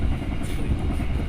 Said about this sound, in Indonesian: Termasuk pelan ya, karena ini kereta ekonomi teman-teman.